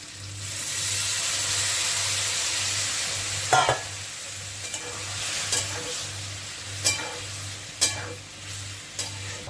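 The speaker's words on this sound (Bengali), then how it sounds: "আমি একটু গরম জল দেবো, ঠান্ডা জল দেবো না, একটু গরম জল দিচ্ছি।" Hot water poured into a frying pan of vegetarian squash curry, with a steady sizzle and bubbling running throughout and a few sharper spitting pops and clinks along the way, close and without talk.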